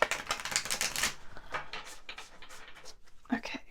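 Tarot cards being shuffled by hand, a quick riffling and rustling run of papery clicks, loud and close, easing off then returning briefly near the end.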